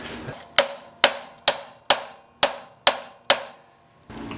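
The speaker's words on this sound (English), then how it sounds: "Finally got some movement on the piston using this piece of metal." A steel mallet drives a piece of metal against a stuck piston on a 1977 Honda CT90 Trail motorcycle, giving seven sharp, evenly spaced metallic strikes close up, each ringing briefly before the next, with no talking.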